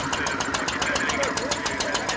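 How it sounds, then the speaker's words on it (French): A 1939 International model LB stationary gasoline engine of 3 to 5 HP, driving a Forano threshing mill, runs steadily with a fast, even chugging beat close by. "c'est un engin stationnaire, donc c'est des moteurs qui étaient utilisés dans le dernier siècle"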